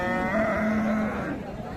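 A Sahiwal cow lows loudly and close by at a village cattle market in Dinajpur, one long tonal moo fading out over crowd murmur.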